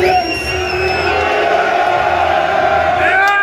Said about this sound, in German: Meine Damen und Herren, großen Applaus für den besten FIFA-Spieler